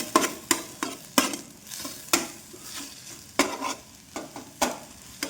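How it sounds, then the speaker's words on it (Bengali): Scrambled egg bhujia frying in a pan while a spatula scrapes and stirs it, giving a steady soft sizzle broken by a dozen or so sharp, irregular scraping strikes close up. "এই দেখো ডিমের ভুজিয়া"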